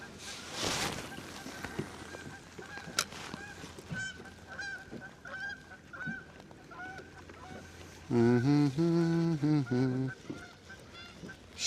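Canada geese near a boat honk repeatedly, a few scattered calls early and then a loud, dense burst of honking toward the end, over faint background noise.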